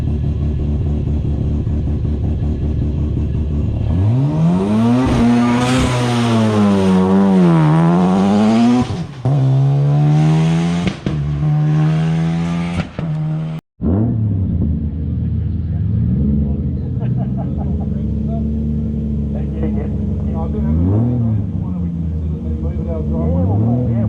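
A loud hillclimb race car engine revs up and down repeatedly, pitch climbing and dropping, before cutting to a lower, steady rumble with voices underneath.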